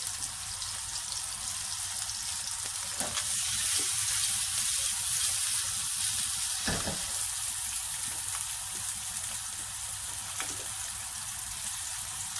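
Meatballs being sealed in a hot pan give a steady, dense sizzle and crackle of frying, close and continuous, with a couple of brief knocks and no talking.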